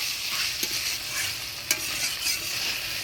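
Pre-fried elephant foot yam being stir-fried in spice paste crackles and hisses steadily in the pan, with a couple of sharp spoon knocks, close up and without talk.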